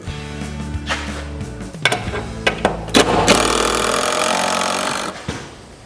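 A power drill drives 2.5-inch screws into pre-drilled holes in a wooden pole barn shelf top, with a few short bursts and then a long, loud, sustained whirring run before stopping abruptly.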